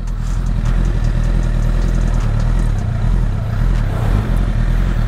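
A Honda Repsol motorcycle idles close by, its engine running as a loud, steady mechanical rumble with a light clatter throughout.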